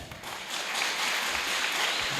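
A church congregation of elderly members at an HKBP Sunday morning service applauds, a dense, steady wash of clapping filling a large room for a couple of seconds, with no talk over it.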